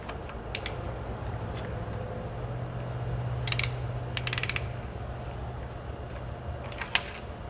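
A ratchet loosens the spark plugs on a Nissan 350Z engine, producing short bursts of quick metallic clicking separated by pauses, close and clear over a low, steady background hum.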